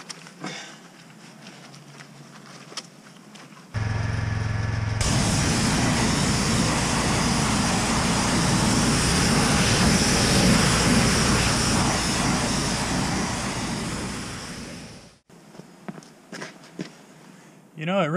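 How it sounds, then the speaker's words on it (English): Pressure washer spraying a car's front wheel to clear rust and brake dust stains: a loud, steady hissing blast that runs for about ten seconds, then cuts off sharply, with quieter handling noise before and after. "We'll go ahead and give it a shot with the pressure washer and see how it comes out."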